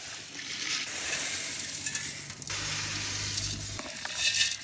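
Mutton masala bubbling and sizzling in a cooking pot, steady and close, with a brief stirring scrape and clink partway through.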